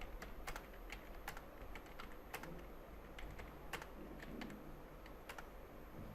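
Steady typing of Hindi text on a computer keyboard, sharp key clicks in an irregular rhythm over a constant hiss of background noise, fairly faint and alone.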